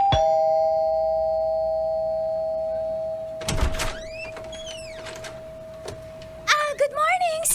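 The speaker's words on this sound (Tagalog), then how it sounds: "May doorbell." A doorbell sounds with a sustained ringing tone that slowly fades. Chirping birds and brief voices follow, and another short chime comes near the end.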